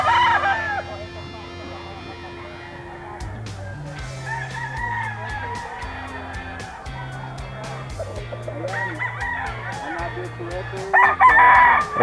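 A Filipino gamecock crows loudly and nearby, a drawn-out cock-a-doodle-doo with a few clucks, while someone talks over it and other fowl call around a breeding yard.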